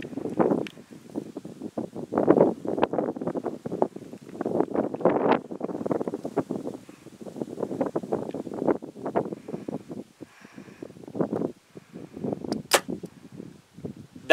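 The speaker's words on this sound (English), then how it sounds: "Wind pushing me around just a little bit." Gusty wind blowing outdoors at an archery range, rough buffeting noise in irregular surges against the microphone, fairly close and steady, with no talking.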